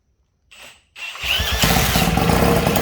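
A 1960s Mercury outboard motor with fuel added to the carburetor: a short cranking attempt, a pause, then the engine catches and buzzes steadily and loudly up close.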